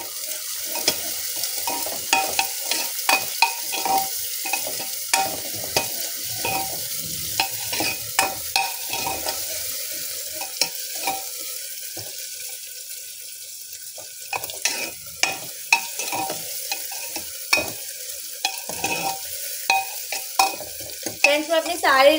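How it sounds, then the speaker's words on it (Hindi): Onions frying in a pan over a low-to-medium flame are stirred with repeated scraping strokes over a steady, close sizzle, with a short quieter pause midway before the stirring resumes. "बस अभी एक बार स्टर कर लेते हैं।"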